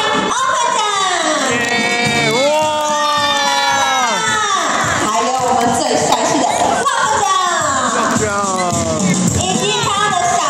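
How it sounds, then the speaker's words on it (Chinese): A lively crowd of children and adults cheers and shouts nonstop to welcome a costumed mascot family onto a stage. Excited voices rise and fall loudly throughout. "我们要一起掌声欢迎欧巴酱"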